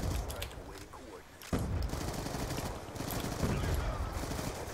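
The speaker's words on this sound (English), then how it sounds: "Spawning into LMG fire on him." LMG machine gun fire in Black Ops 2, a continuous rapid stream of rounds rattling fairly faint and mid-distance, jumping louder partway through, with a player talking over it.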